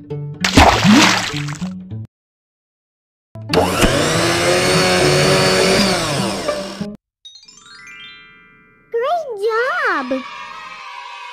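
A cartoon blender whirs steadily for a few seconds while making a fruit smoothie, a loud whining buzz between short playful sound effects and a voice.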